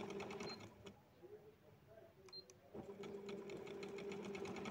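A simple domestic sewing machine stitches fabric while a skirt hem is folded, its steady mechanical whir running continuously with a brief pause midway, fairly quiet and close, with faint talk in the background.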